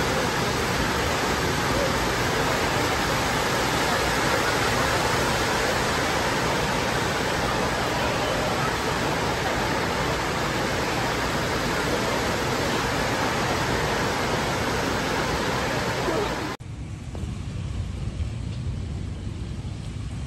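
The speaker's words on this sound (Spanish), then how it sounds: "nos agarró la lluvia ya para irnos" Heavy rain pours down in a dense, steady hiss for most of the clip, then cuts to a quieter wash of background sound near the end.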